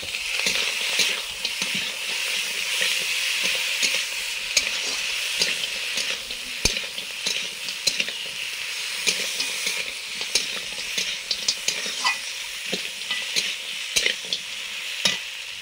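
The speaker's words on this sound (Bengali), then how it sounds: "সবজি যেহেতু ভাজা আছে বেশি সময় আর ভাজলাম না" Vegetables stir-frying with green chili and radhuni spice paste for Bengali shukto, a loud, constant close-up sizzle with scattered scraping and tapping of the spatula throughout, no voices.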